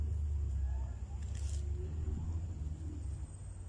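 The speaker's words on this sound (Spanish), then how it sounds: "Es que escucho muchos carros" Cars pass by near a cemetery in Mexico, a continuous low road rumble that swells and fades at a moderate distance, with faint voices now and then.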